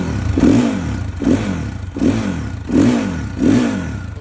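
A warmed-up Geon Dakar GNS 300r twin-shaft motorcycle engine is revved five times in a steady rhythm, each blip rising and falling back to idle, close and loud.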